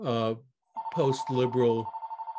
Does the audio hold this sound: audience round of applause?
no